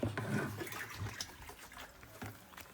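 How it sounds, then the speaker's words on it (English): Water and ingredients poured into a fermentation tank, a soft splashing and sloshing pour that tapers off with a few later splashes, fairly faint and close. "So we're going to add all these things together in this tank with water."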